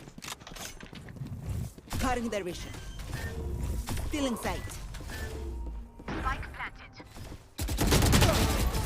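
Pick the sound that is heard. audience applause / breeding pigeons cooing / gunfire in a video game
gunfire in a video game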